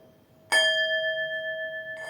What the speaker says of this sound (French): là c'est un bol tibétain ou un bol de cristal